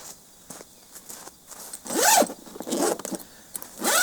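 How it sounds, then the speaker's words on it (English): Someone unzips the awning cover on an FJ Cruiser overlanding build in a few quick, close rasping zipper pulls with soft handling noises between them. "Unzip."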